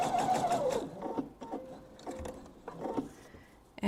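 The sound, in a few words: sewing machine stitching fabric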